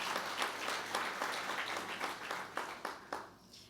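Congregation applauding during a church service, a moderate, somewhat distant wash of clapping with rhythmic accents that fades out toward the end.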